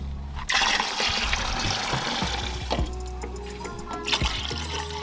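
Locally made broken rice, asantemo, is washed in water for a second time in a Ghana market, with water splashing and trickling, scattered clinks and sloshes close at hand.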